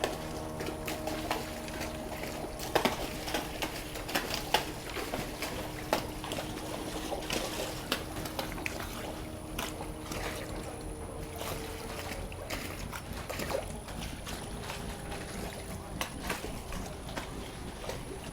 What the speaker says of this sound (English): You hear the noise of a powerful suction.